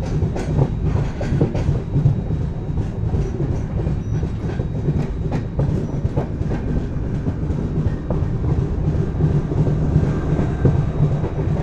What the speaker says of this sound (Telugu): ఈ ట్రైన్ని మన ట్రైన్ ఇక్కడ ఓవర్టేక్ చేస్తుంది